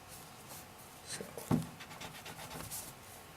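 Graphite pencil sketching on paper while drafting a symmetrical shape, with soft scratchy strokes and a sharper tap near the middle, close and quiet.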